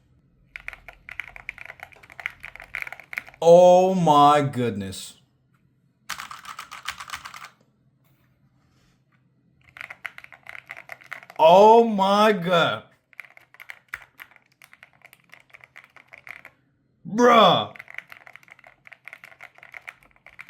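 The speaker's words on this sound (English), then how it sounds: "Now we have the MSI Forge keyboard." Bursts of rapid clacky typing on an MSI Forge GK600 TKL wireless mechanical keyboard, close and crisp, start and stop in several runs, with a person exclaiming loudly in between.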